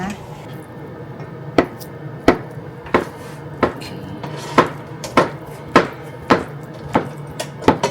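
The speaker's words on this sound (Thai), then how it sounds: "ทีนี้เราก็จะมาหั่นเต้าหู้กันก่อนนะคะ" A knife chops tofu on a cutting board in about a dozen evenly spaced, sharp knocks, heard close and clear over a quiet kitchen background.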